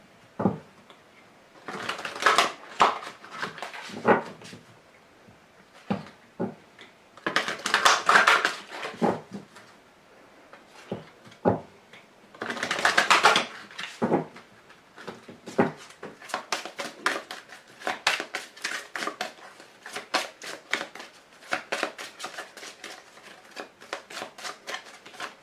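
Oracle cards for an archangel Gabriel reading being shuffled and drawn, bursts of crisp riffling and flicking paper alternating with quieter pauses and small taps, close and clear.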